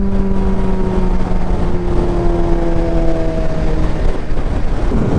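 Kawasaki ZX10RR motorcycle with a loud exhaust, its engine note sliding gradually lower as it rolls on, continuous and close throughout with no voices.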